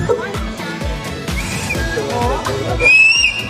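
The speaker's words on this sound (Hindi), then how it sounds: "हम में से कितने लोग यहाँ पर सीटी बजा सकते हैं? Can we hear some व्हिसल्स?" Wedding sangeet crowd answering with whistles over thumping dance music, several bright guests' whistles rising near the end, steady rhythmic beat beneath.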